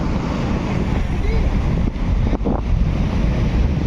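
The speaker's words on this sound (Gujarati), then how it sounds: "મોજા પણ એટલા મોટા આવે છે ને" Large monsoon-season ocean waves wash onto a shore in a steady, loud roar, mixed with heavy wind buffeting the microphone.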